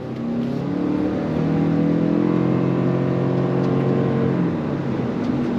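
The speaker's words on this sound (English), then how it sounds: "Let's go on throttle." A 2025 Toyota RAV4 Plug-in Hybrid with a CVT accelerates on throttle, giving a steady, smooth engine drone and whir that swells slightly and holds close and even throughout, with no talk.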